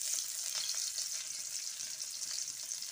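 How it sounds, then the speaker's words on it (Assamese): Chopped onions and black cumin fry in hot oil, giving a steady, even sizzling hiss that sounds soft and slightly distant, with no voices. "কলা জিৰাকেইটা ফুটি উঠাৰ পিছত ইয়াত দি দিম মই কাটি ৰখা পিঁয়াজ"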